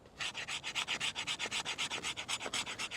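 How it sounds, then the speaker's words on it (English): A Condor Atrox knife spine scraping fatwood in fast, even rhythmic strokes, a loud raspy shaving sound repeated about a dozen times close up, with no talking. "So let's see how well it scrapes some Fatwood."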